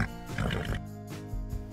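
A unicorn gives a horse-like whinny, a quavering high neigh that breaks into a couple of pulsing bursts, fairly soft and close with no other sounds.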